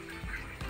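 Egg-laying farm ducks quack in a couple of short nasal calls over a steady background hum, fairly close.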